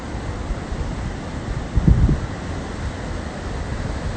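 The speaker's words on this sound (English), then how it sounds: "The ocean is really lovely." Ocean waves wash onto a beach near Durban under strong wind buffeting the microphone, a steady rough roar with one louder surge midway, and no one speaking.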